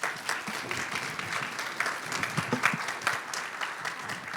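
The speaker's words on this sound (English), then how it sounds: "Give them a big round of applause." An audience applauds the panel at a nursing advocacy and health policy event, a moderate, steady patter of many hands clapping continuously throughout, fairly distant and even, with no speech over it.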